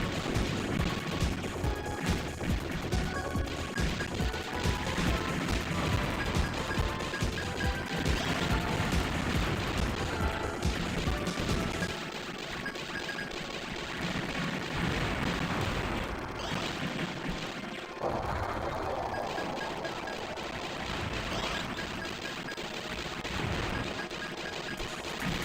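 Turret gunfire in a Sega Saturn game, heard as dense repeated crashing shots and blasts over busy game noise, steady and loud through the first half, then thinner and more scattered.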